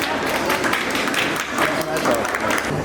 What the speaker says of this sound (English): Please join us in welcoming the group with a huge round of applause.